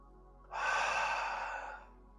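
A single deep breath during a yoga hip flexor stretch: one long, airy exhale that swells, holds for about a second and fades, close and quiet against a silent background.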